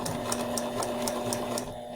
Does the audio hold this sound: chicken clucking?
no